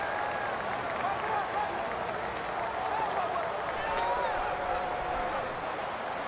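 Steady stadium crowd roar from a Madden NFL 19 football game, Minnesota Vikings versus New York Giants, a continuous dense wash of fans cheering at home field, with commentary voices over it.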